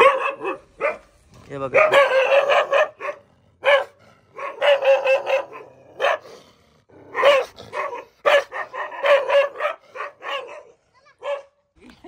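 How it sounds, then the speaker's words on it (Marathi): Several guard dogs kept tied up on a rural property bark repeatedly in loud, close bursts, with short gaps between volleys and someone speaking briefly. "पहा किती कुत्रे भुका लागून गेले"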